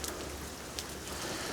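Freezing rain falls steadily during a winter storm, a dense, even hiss of drops with a few sharper ticks on nearby surfaces.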